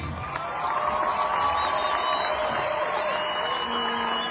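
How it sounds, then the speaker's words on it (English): A crowd at a celebration in Juba for the arriving South Sudan basketball team applauds and cheers, a steady roar of clapping and voices with some whistle-like tones riding above it. "Let's give this gentleman another round of applause."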